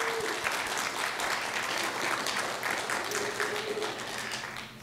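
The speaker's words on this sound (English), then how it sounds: "Let's give her a round of applause as well." Steady, even applause fills a room at a county conservation award ceremony, a continuous wash of many hands clapping at moderate distance with faint voices underneath.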